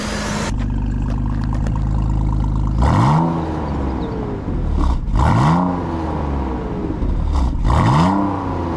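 A car engine cranks and starts after a valve cover gasket repair with plastic debris found in the engine, then revs three times in rising, falling sweeps over a steady idle, loud and close, with no talking.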